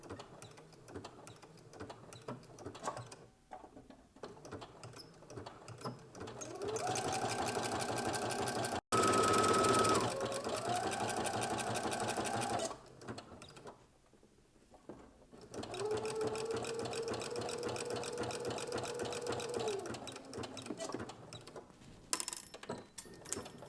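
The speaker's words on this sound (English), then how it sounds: "change to a narrow zigzag stitch. And then we're going to begin and end with a back stitch." Sewing machine running a narrow zigzag stitch on knit dress fabric, with two sustained bursts of fast mechanical whirring separated by a quiet pause and a faint tick near the end.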